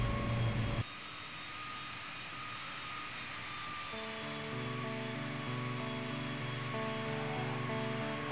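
B-52D bomber engines roar during a runway rollout in the video game Strike Fighters 2, a steady aircraft drone that shifts to a layered, higher whine partway through and continues loud and unbroken.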